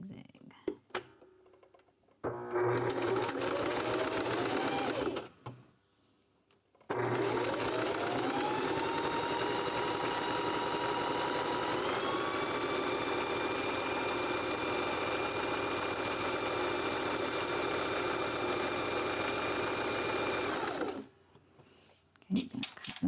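A sewing machine stitches rope coasters, switching between straight and zigzag stitch, its motor whirring loudly and steadily in two long runs with a brief stop between, close up and with no speech over it.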